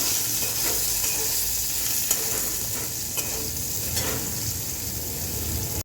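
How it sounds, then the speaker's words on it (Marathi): Potatoes and green chilies sizzle steadily in a pan while being stirred, a dense continuous frying hiss with occasional utensil scrapes, close and loud throughout with no talking. "मिरची टाकून परत हलवून घेऊया."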